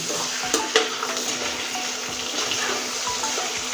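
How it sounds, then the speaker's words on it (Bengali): Chicken sautés with spice masala in a pan, giving a steady sizzle with light clinks and scrapes from the stirring throughout. "এবার চিকেন দিয়ে ভালো করে মশলার সঙ্গে আরও কষতে থাকবো"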